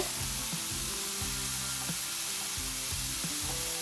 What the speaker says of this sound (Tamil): இதை பாருங்க, வெங்காயம் வதங்கி கொண்டு வருது